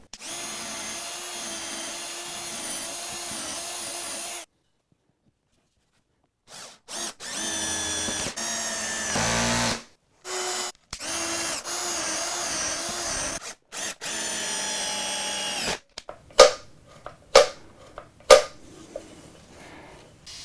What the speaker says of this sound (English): Just extending the pilot hole.